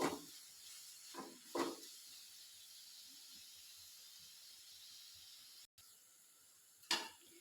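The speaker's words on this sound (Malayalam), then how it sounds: "എല്ലാം കൂടി ഇട്ട് നല്ലപോലെ ഒന്ന് വഴറ്റട്ടെ ആ പച്ചപ്പൊക്കെ ഒന്ന് മാറുന്നിടം വരെ വഴറ്റിയെടുക്കും" Onions and chilies are sautéed in a pan, with a soft steady sizzle and hiss under a few brief scraping stirs, fairly faint and with no talking.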